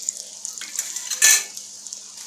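Soft sizzling and crackling of syrniki frying in a very old pan, with light scraping and clinking of utensils and one brief louder burst.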